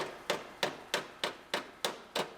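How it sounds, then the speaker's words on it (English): A hammer and dolly straighten a damaged Honda Civic Si body panel, seven sharp metallic strikes landing at a steady rhythm about a third of a second apart, close and clear with no talking. "So we just put a little tension on the come along and hammer and dolly this out."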